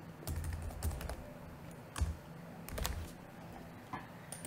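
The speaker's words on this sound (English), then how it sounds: "I'll just type enter the first number." Keys clack on a computer keyboard in short, irregular bursts of typing, close and fairly quiet, with pauses between clusters of presses and no voice over them.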